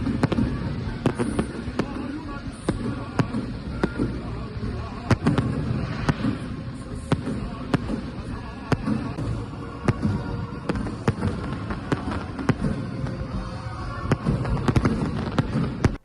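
Fireworks crackle and pop in dense, irregular bursts throughout, a steady barrage of sharp bangs over a rumbling background.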